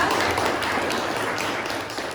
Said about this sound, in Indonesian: Oke, kasih tepuk buat Ayas.